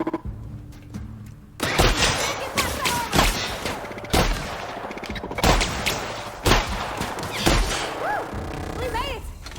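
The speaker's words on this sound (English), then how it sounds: "Oh, who's shooting me?" Gunfire in The Outer Worlds comes as loud, sharp bursts of shots spread through the fight, with pauses and rising electronic tones between them, and a voice talks over parts of it.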